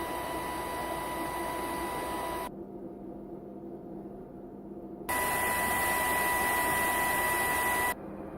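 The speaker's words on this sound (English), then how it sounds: "Here's the fan sound before and after." A steady CPS2 arcade system cooling fan whirs with a constant hum and hiss, switching between the louder, brighter original fan and a noticeably quieter, duller new one.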